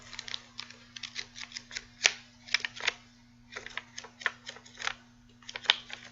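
Close, quiet rustling flips and soft papery snaps come in an irregular series over a faint steady hum, like pages being turned one after another.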